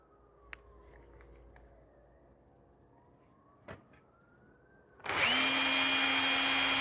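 Two sharp taps of a hammer on a punch ring out, then a loud power drill starts up and runs steadily at close range, drilling holes for lights in a Lego display.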